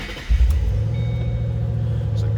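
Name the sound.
2007 Ford Mustang Shelby GT engine running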